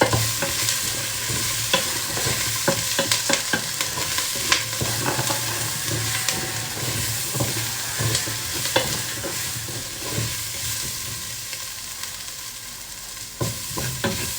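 Chestnut soup ingredients stirred in a pot with a spoon, a steady scraping and rustling with a soft sizzle underneath, repeated clicks as the utensil knocks the pot, fairly close and continuous with no talking.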